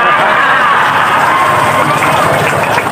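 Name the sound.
audience clapping and cheering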